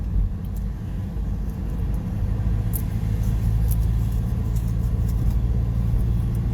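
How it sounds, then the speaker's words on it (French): A car engine rumbles steadily at low pitch throughout, a continuous close drone with slight swells, no voices over it. "Ça, c'est de la bagnole."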